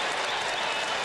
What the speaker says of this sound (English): listen to this crowd give their star a hero's ovation